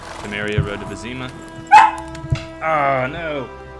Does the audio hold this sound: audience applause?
no